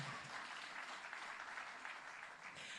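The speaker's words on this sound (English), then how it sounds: "Now, I think that deserves a round of applause" Conference audience at the Jamaica Diaspora Conference applauding steadily for about three seconds, a dense, even wash of clapping with no voices over it.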